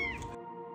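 Tiny kitten trapped inside a ceiling lets out one loud, close, drawn-out meow that fades into a lingering tonal tail, with no talk over it.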